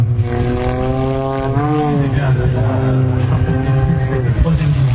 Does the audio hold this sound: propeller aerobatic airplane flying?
yes